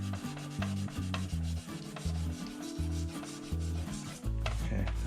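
Sandpaper rubs back and forth over the painted body of an RC Jeep Cherokee, making steady rhythmic scratchy strokes, close and fairly quiet, with no talking.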